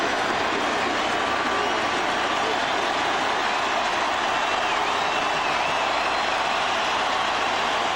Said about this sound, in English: the chant now from the crowd at Turner Field